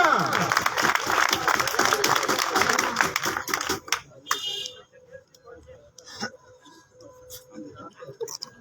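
Crowd applause at a pigeon flying group prize ceremony in Chiniot: dense, lively clapping for about four seconds that thins to a few scattered claps and fades into a quieter room.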